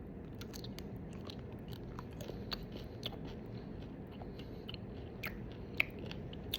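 Crunchy Bento squid seafood snack from Thailand is chewed up close and quietly, with sharp crisp crunches and snaps scattered over a soft, steady mastication noise.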